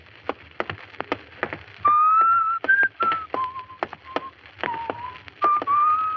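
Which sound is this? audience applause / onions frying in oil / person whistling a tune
person whistling a tune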